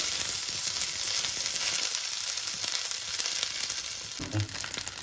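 Mourala fish paturi wrapped in gourd leaves sizzling steadily in hot oil, a continuous close crackling hiss with a brief bubbling burst near the end.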